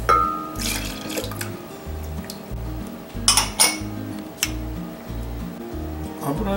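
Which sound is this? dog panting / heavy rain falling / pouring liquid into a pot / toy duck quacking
pouring liquid into a pot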